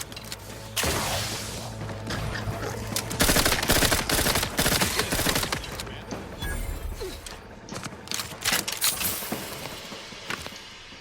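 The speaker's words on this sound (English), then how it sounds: "Hold on, I'm out of bullets for the SMG." Rapid SMG gunfire in the video game The Outer Worlds 2, with dense, chattering bursts and scattered mechanical clanks running through most of the stretch and tapering off near the end.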